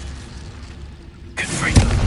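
Incendio fire spell cast in the video game Hogwarts Legacy, a sudden loud whooshing burst of flame that starts abruptly after a quiet stretch and roars on with a heavy thump partway through.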